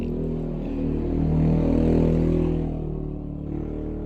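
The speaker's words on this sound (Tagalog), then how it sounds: "Kapag mayroon dumadaan na sasakyan, lalo na motorsiklo, guys, maingay po dito sa amin." A motorcycle engine drones as it passes on a nearby road, its low, buzzing note swelling louder toward the middle and then fading slightly.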